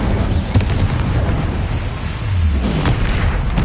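Incendio fire spell blast in Hogwarts Legacy, a deep booming burst followed by rumbling combat noise and further muffled impacts.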